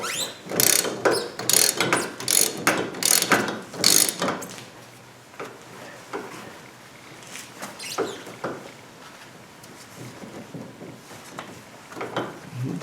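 A ratchet with a 10 millimeter socket clicks rapidly on a steering shaft bolt while an OER intermediate steering shaft is being replaced. Loud, close ratcheting fills the first few seconds, then fainter, sparser clicks and handling noises follow.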